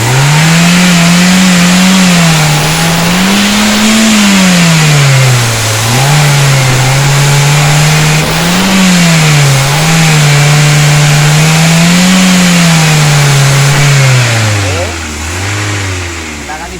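A Toyota Avanza's engine runs loud and close during throttle body cleaning, its pitch swelling and falling as the throttle is blipped repeatedly, then dropping toward idle near the end.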